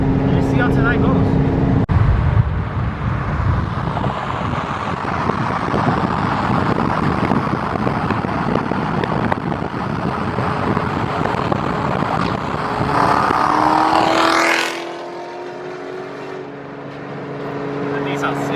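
Corvette C7 Z06 engine and exhaust at a night car meet, a loud broad roar that swells and then cuts away abruptly, leaving a quieter low rumble.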